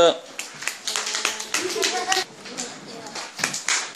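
Scattered clapping breaks out in a room after a student science presentation, uneven and fairly close, mixed with children's voices and chatter over it.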